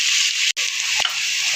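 Sliced onions fry in a pan for a biryani, a loud, steady close-up sizzle with a brief cut and a soft stir partway through.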